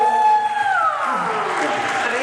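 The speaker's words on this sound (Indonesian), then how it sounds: "tepuk tangan dulu." Applause rises from the audience at a youth pledge celebration held at a military command, heard as a broad wash of clapping that follows sliding tones and continues steadily to the end.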